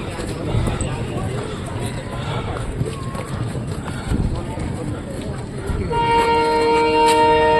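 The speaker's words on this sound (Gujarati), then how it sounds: "હવે ટ્રેન આવી ને આપણી જ આવી." Passenger train pulling into a crowded station on a trip toward Shimla and Manali, a loud rumbling roll with rising horn tones at the end, under constant chatter from nearby people.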